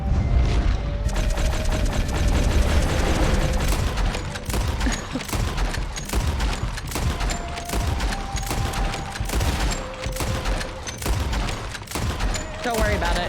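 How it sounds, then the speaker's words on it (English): Rapid bursts of gunfire in Red Dead Redemption 2, loud and nearly continuous with sharp repeated shots and mechanical clicks over a steady game soundscape. "That was excessive shooting?"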